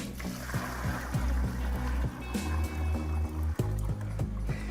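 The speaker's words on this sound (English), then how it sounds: "So I've actually just put some fresh water in there, and we'll pour it into our freshwater tank." Fresh water is poured into the clean-water tank of a Karcher Puzzi 10/1 carpet cleaner vacuum extractor, a continuous close splashing gurgle with rhythmic glugs and a couple of sharp knocks.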